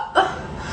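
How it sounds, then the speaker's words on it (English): A person hiccups once, abruptly, up close and loud, during a bad case of the hiccups, followed by a breathy pause with no speech. "I have a really bad case of the hiccups, and I can't get rid of them."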